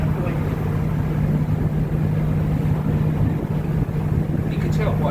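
A Wright Gemini double-decker bus with Go-Ahead London, registration LF52 ZRX, heard from inside as its engine drones steadily and loudly with a constant low hum and rattling road noise throughout.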